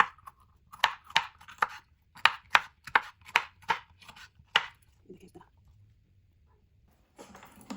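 A knife chops long pieces of food in two on a cutting board during home cooking, giving about ten sharp, close knocks in an uneven rhythm, followed by quieter handling noise and a soft rustle at the end.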